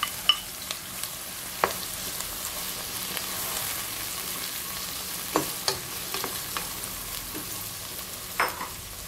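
Shrimp and sururu mussels being sautéed in a pan for a coconut-sauce dish give a steady soft sizzle, with a few sharp clinks and scrapes of stirring scattered throughout, fairly quiet and with no talking.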